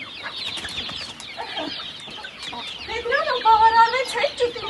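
Hens and growing chicks cluck and peep close by in a farmyard, a steady chatter of soft clucks rising into louder calls near the end.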